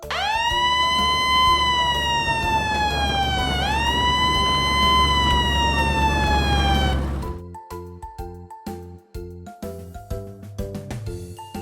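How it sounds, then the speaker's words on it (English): Toy ambulance siren wailing loudly and close for several seconds with rising and falling electronic sweeps, then cutting off into a series of short clicks and clunks. "Ambulance."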